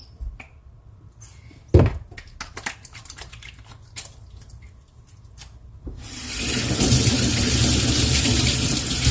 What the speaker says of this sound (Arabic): نغسل يدي